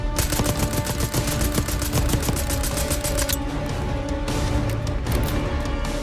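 Heavy automatic gunfire erupts during the casino mission of Call of Duty Black Ops 6, loud rapid volleys pounding continuously, then thinning into a sustained roar of shooting and blasts.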